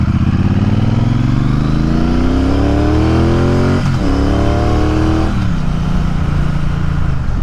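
A Triumph Bonneville Speedmaster motorcycle accelerates hard, its engine note climbing steadily through the gears. One brief dip marks a gearshift, and the engine then pulls on, loud and close, with steady wind roar behind it.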